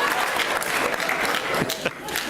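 Audience at a public debate between John Lennox and Michael Shermer breaks into loud, sustained applause and cheering, a dense wash of clapping filling the hall, with a few sharper shouts near the end.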